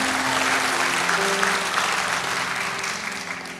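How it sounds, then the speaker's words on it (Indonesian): Church congregation applauding during a sermon, a dense sustained burst of clapping that fills the room, then gradually thins out toward the end. "Tepuk tangan kayak apa ya, kayak gitu."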